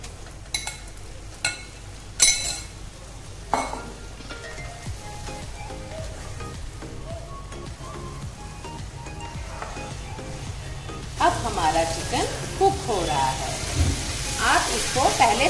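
Marinated chicken goes into a hot pan for chicken tikka rice. A few utensil clinks come first, then a louder, steady sizzle and crackle breaks out near the end.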